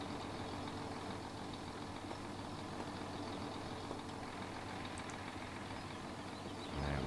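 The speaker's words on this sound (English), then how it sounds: "So we'll take this tractor back." A tractor engine in Farming Simulator 17 running steadily as it drives, a faint, even low drone with no variation, ending in a slight louder thump.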